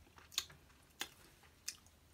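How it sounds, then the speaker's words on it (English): Crunchy fried catfish from a Cracker Barrel catfish platter is chewed close up, giving three sharp, evenly spaced crunches over quiet background. "it's crunchy"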